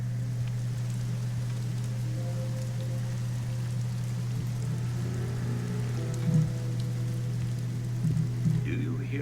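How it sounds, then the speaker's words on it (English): Steady rain falls outdoors at night, a constant even hiss with faint scattered drops, with no voices over it. "It's raining out here."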